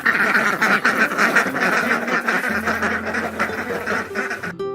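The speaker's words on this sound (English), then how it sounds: "Can you hear the ducks?" Ducks let out of their coop in the morning quack loudly and repeatedly close by, overlapping calls from several birds filling the whole stretch.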